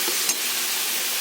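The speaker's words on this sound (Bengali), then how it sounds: "এবার এই মশলাটার মধ্যে আমি যে এঁচড়গুলো ভেজে রেখেছিলাম ওইগুলো দিয়ে দেবো।" Fried jackfruit and boiled potatoes dropped into a hot spice mix, giving a steady close sizzle with a brief clatter near the start.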